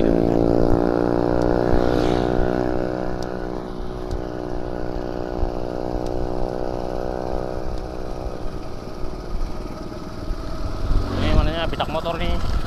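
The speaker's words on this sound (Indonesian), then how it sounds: "Motor nih, kita salip lah." A motorcycle engine runs steadily and close by beside a riverbank path with boats, its harmonic drone holding throughout, then a brief louder rise near the end as it is passed; speech is faint.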